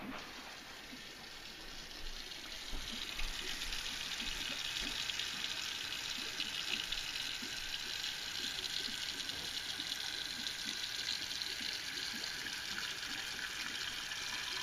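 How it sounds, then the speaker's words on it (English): Water pours steadily into a container of pig feet, a continuous soft gushing that runs unbroken for the whole stretch, fairly quiet and close. "So then you add water. Cover this with water."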